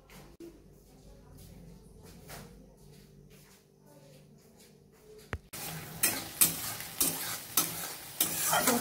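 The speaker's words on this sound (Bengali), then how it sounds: "মশলাটাকে আগে ভালো করে একটু ফ্রাই করে নিই" A tomato, onion, ginger and dried and green chilli masala fries in a pan, quiet at first, then loud sizzling and scraping with rhythmic stirring strokes in the second half.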